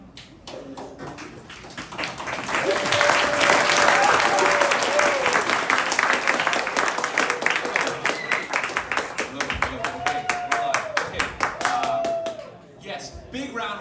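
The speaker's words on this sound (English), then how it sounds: "big round of applause for our panelists" An audience applauds panelists at the close of a discussion, with dense sustained clapping that swells and then tapers over about thirteen seconds while a voice speaks over it.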